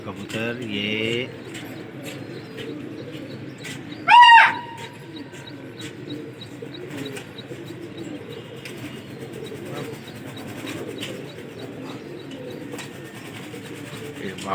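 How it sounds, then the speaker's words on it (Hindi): Pigeons flutter and coo around a rooftop during a pigeon flying contest. A short burst of wingbeats comes early, then a brief sharp call, over quiet outdoor background, with occasional voices. "कबूतर उड़ रहे हैं"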